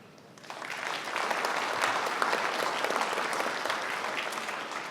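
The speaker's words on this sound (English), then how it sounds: "you can please give yourself a warm round of applause" Graduates at a December commencement ceremony break into a warm round of applause, a dense, steady wash of clapping from a large crowd that swells quickly and holds at full strength.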